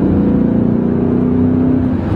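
A BMW E39 M5 V8 engine blips and revs through a downshift, a loud close throaty exhaust drone holding a steady pitch before easing off slightly at the end.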